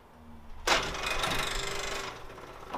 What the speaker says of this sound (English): The next step is to shovel and turn my sand aerator here.